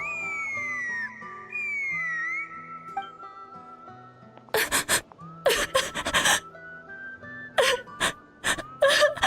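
A woman sobs and wails in a video game, with bursts of crying and gasping breaths over soft background music.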